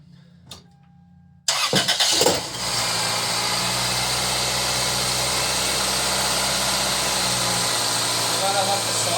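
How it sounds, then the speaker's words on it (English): A Toyota Corolla with new Denso spark plugs cranks and fires up, then settles into a steady, loud idle that runs for several seconds, with faint talk audible before the start. "We're going to go ahead, we're going to start the car,"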